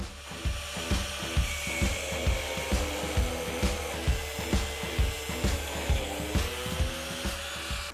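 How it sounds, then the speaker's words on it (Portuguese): A hand saw cutting a half-inch threaded steel rod to 16 cm length, steady rhythmic back-and-forth strokes about two per second, close and moderately loud with a harsh metallic rasp. "Agora eu vou pegar essa barra de rosca de meia polegada e cortar ela com 16 centímetros de"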